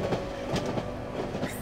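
Train riding in the horror game Cry of Fear: a steady rumbling carriage with rhythmic clickety-clack wheel beats on the rails, close and continuous, no voices.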